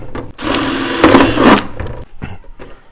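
Power drill boring holes through the side of a plastic bottle being prepared for growing vegetables, a loud close whirring grind lasting over a second, then shorter bursts and clicks as the bit works the plastic.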